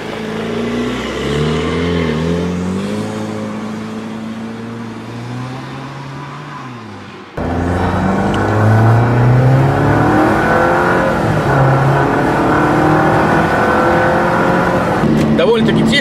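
A car exhaust with only a stock rear muffler and no catalytic converter or resonator revs repeatedly, rising and falling in pitch, then cuts to a louder, rougher run midway, with a voice talking over parts of it.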